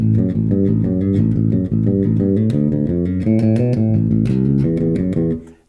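Electric bass plays the opening phrase of a bass line, a steady run of punchy, evenly spaced notes at a loud, close level, ending with a brief fade and no voices.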